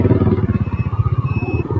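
An Ather electric scooter is ridden along with a fast, steady rhythmic pulsing that sounds close and loud, joined by a thin whine and some light clatter, with no speech.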